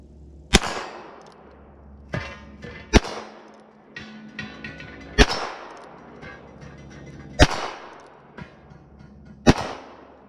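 Six sharp gunshots from a Heritage Barkeep revolver ring out one at a time at uneven intervals, each loud, close crack trailing into a short metallic echo, with no talking.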